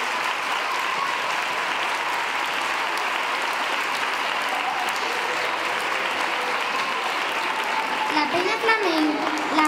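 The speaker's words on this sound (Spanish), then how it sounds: "Un aplauso para ellos." Audience applause at a school flamenco gala tribute, a sustained even roar of clapping from a crowd throughout, with a voice beginning to speak over it near the end.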